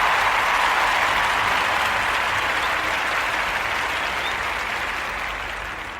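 Dense, steady applause from many hands, close and loud, fading gradually toward the end.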